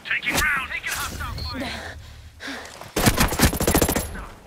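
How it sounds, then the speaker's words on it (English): Bursts of rapid machine gun fire crackle in the video game Ghost Recon Breakpoint, loud clustered volleys mixed with game effects and spoken in-game voice lines. "I hear gunfire."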